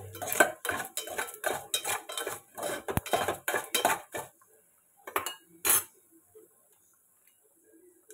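A spoon scrapes and clinks against a pan while onions and mustard seeds fry for gongura chutney: quick, rhythmic strokes for about four seconds, then a few sparse, isolated taps.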